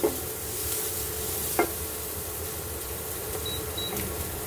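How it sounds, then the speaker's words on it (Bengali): Quiet, steady sizzling of onions frying in a pan, with a brief scrape of stirring partway through. "পেঁয়াজগুলো একটু ভেজে নিচ্ছি"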